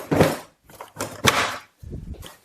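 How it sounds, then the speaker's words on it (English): Doors on a Klein Tools MODbox two-drawer rolling tool box are swung open and shut, giving a few hollow plastic clunks and knocks in quick succession, close by with no talking. "You're just going to slide it down, and you can open and close your doors here."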